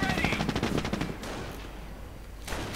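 Machine gun fire from the video game Company of Heroes 2 rattles in a rapid burst of closely spaced shots, then fades into battle ambience before another shot near the end.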